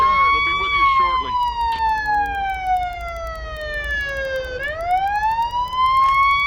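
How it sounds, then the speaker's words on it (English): A police car siren in the Police Simulator video game wails loud and close, its tone sliding slowly downward and then sweeping back up, with a voice speaking briefly over the start. "Jeez, that siren's loud."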